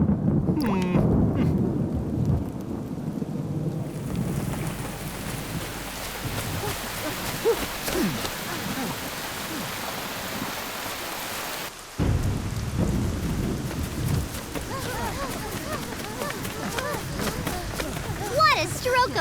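Heavy rain falls on surfaces during a thunderstorm, with rumbling thunder rolling through a dense, steady hiss of downpour, loud and close.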